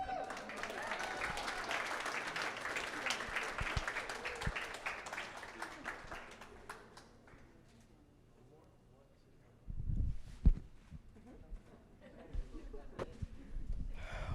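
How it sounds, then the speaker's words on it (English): An audience at a startup demo day pitch event applauds, with loud, dense clapping that fades out after several seconds, followed by a few scattered thumps and a quieter stretch. "please do not hold back your applause"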